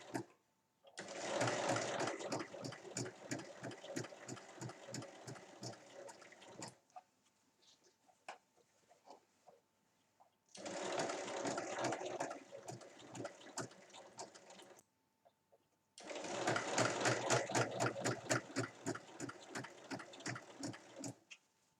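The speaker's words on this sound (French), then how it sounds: "je vais venir faire la surpiqûre tout autour et je commence donc à piquer sur un des côtés" A sewing machine topstitching around a small fabric bag runs in three long, steady rattling bursts separated by short pauses. It is close and fairly loud, with no talking.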